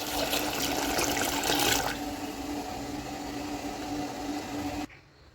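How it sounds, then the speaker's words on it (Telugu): Water pours into a cooking pot holding potato pieces and green peas, a steady rushing splash for about five seconds, louder at first and then cutting off abruptly. "నీళ్లు పోసుకొని"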